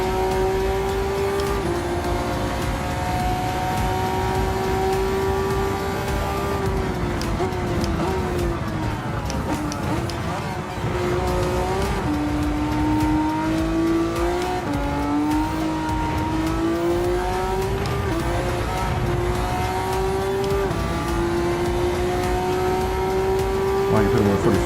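A race car engine in Gran Turismo 7 on PS5 revs high and holds near 8,000 RPM, whining continuously with pitch dips at gear shifts, while people talk over it.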